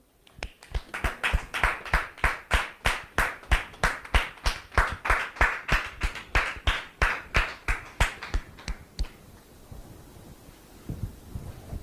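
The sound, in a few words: studio audience applause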